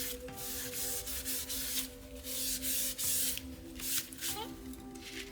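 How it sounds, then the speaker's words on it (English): Scored paper flaps for a folio being burnished down by hand, with close, quiet, repeated rubbing strokes in an irregular rhythm and a faint background hum. "And then just burnish these down."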